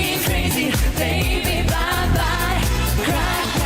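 The United Kingdom's 2003 Eurovision Song Contest entry plays loud and continuous, with a steady pulsing beat, heavy bass and layered instruments, and no talking over it.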